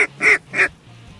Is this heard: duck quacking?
yes